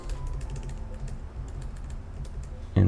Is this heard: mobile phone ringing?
no